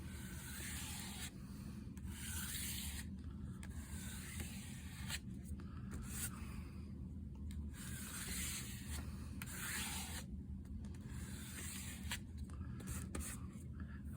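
Paint scraped across an art journal page in steady repeated strokes, a close dry rubbing rasp that comes in several bursts over quiet room noise.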